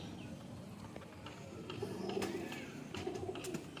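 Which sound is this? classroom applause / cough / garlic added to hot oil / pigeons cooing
pigeons cooing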